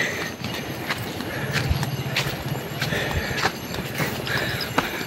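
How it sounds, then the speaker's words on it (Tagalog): A horse on a mountain trail clops along with steady, uneven hoof beats mixed with crunching footsteps, while a few sharp neighs ring out over the outdoor background. "Yan yung kabayo ay sumisigaw-sigaw."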